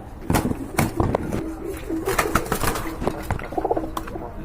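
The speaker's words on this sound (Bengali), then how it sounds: "খুবই কিউট এক জোড়া কবুতর" A pair of pigeons at a nest with two eggs coo softly in low, repeated murmurs, broken by sharp clicks and shuffles close by.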